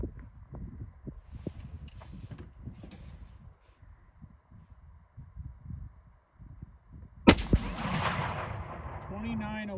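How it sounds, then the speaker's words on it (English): A single loud rifle shot from a Seekins Element M3 in .300 Win Mag, firing 200-grain bullets outdoors, cracks near the end and then rumbles away, after several seconds of quiet shuffling and handling sounds. "I'm going to shoot more directly over it, I think."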